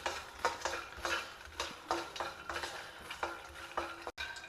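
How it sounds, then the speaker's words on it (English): Makhana, or fox nuts, are stir-fried in hot ghee over a low flame, giving a soft sizzle broken by rhythmic scraping strokes and light rattling of the nuts, fairly quiet and close. "We will fry this in the hot ghee."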